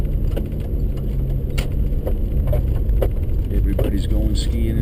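Car interior on a morning commute to work, with a steady engine and road rumble throughout and occasional light clicks and rattles; someone talks over the drone.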